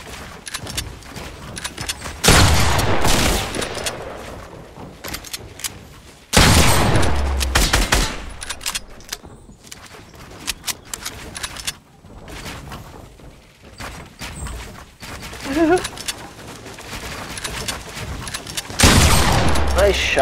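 Gunfire from the Fortnite video game rings out in several loud bursts and rapid volleys, separated by quieter stretches of in-game movement and mechanical sounds.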